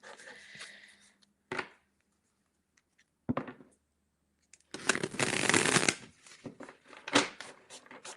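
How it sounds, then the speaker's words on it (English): Tarot cards being shuffled in several crisp bursts of riffling and sliding, with short pauses between, close by. "Let's shuffle the cards."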